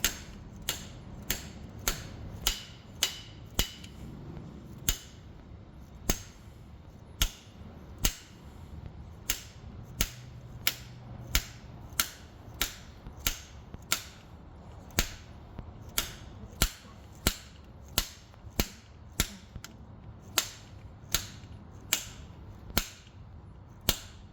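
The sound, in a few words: hammer hitting pin into Honda/Acura part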